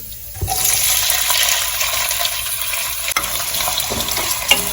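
Onions frying in a pan for a Punjabi turnip greens dish, a steady close sizzle that starts with a sharp hiss as they go in and continues alongside light stirring, with no talking.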